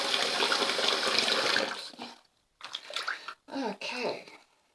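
Water runs steadily from a tap for hand-washing a hat, a full rushing stream for about two seconds before it cuts off, followed by brief bursts of a voice.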